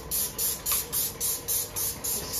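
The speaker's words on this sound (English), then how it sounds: "I'm just going to spray down the sides" Rapid repeated hissing bursts from a spray bottle of cleaner sprayed onto a Shark Lift-Away vacuum, about eight quick squirts in an even rhythm, close and fairly loud.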